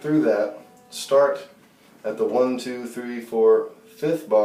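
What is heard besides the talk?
No distinct noise like a dog, phone or traffic.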